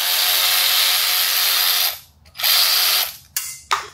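A hand ratchet loosens a 10 mm hold-down bolt on an engine, clicking in fast continuous bursts up close, then pausing and giving a few shorter strokes.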